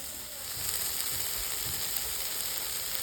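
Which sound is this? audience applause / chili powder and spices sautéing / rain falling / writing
chili powder and spices sautéing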